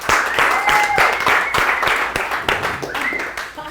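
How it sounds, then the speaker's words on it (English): An audience at a networking and branding talk gives a round of applause, with individual claps clearly audible in an uneven rhythm and a few voices cheering over them before the clapping tapers off. "let's give him a round of applause."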